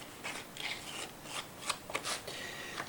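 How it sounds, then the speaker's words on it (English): A serrated scraper roughs up and scores wet clay on a hump mold, giving a run of short, close, dry raspy strokes in irregular bursts with no talk. "rough it up a whole lot with my serrated scraper"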